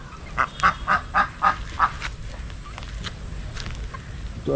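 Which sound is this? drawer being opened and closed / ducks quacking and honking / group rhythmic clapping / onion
ducks quacking and honking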